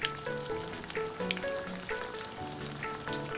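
Sweet rice cookies (bitso bitso) deep frying in hot oil, a steady crackling sizzle with scattered pops and bubbling, close and fairly quiet with no talking.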